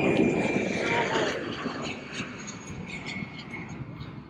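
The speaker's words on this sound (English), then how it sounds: "There goes an Allegiant taking off right behind us." An Allegiant airliner taking off from an airport during an air show, a loud broad jet roar that slowly fades as it climbs away.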